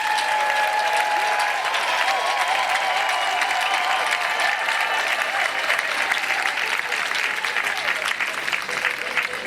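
A church congregation applauds steadily at a Methodist Protestant anniversary service in Côte d'Ivoire, a dense, loud wash of clapping that holds evenly throughout.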